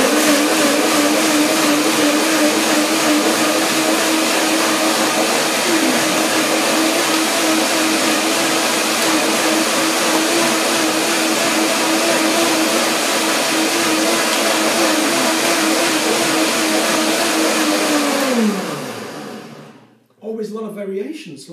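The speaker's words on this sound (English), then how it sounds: "So just blend it up and see what happens." A blender whirs loudly and steadily while blending raw cauliflower and corn soup, a constant motor drone that holds for about eighteen seconds, then winds down and stops.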